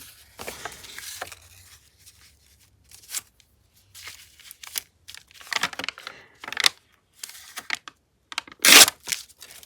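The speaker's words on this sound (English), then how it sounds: "this kind of paper doesn't rip great because it's all wavy" Wavy, dyed paper being torn by hand in short, irregular bursts of ripping and crinkling separated by quiet pauses, close and moderately loud.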